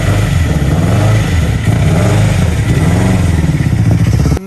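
A Subaru EJ25 engine with a broken connecting rod runs rough and loud up close, a dense clattering, knocking drone with uneven pulses that holds steady for several seconds before cutting off abruptly.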